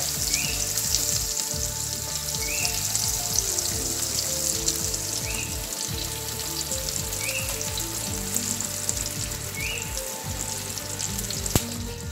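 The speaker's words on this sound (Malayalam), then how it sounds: "ഇതിനായിട്ട് നമ്മളൊരു പാന് അടുപ്പത്ത് വെച്ച് ചൂടാക്കിയിട്ടുണ്ട്. അതിലേക്ക് എടുത്തു വെച്ച ബട്ടർ ഇട്ട് കൊടുക്കാം." Butter sizzles in a hot pan on the stove while date energy bars are being made, a soft, steady crackling fry with occasional light stirring scrapes and no talking.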